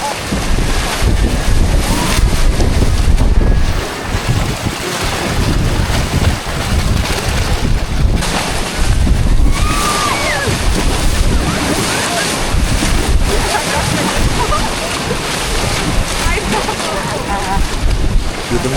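A boat rides through river water at Arashiyama in Kyoto, with loud, steady splashing and rushing water mixed with heavy wind buffeting throughout.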